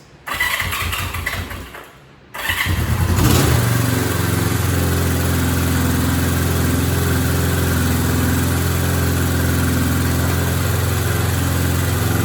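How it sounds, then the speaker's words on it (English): A Honda CB350 twin motorcycle engine cranks over briefly, pauses, then catches and settles into a loud, steady high idle, running alone and close without any talk. "Now right now, it's idling high, okay?"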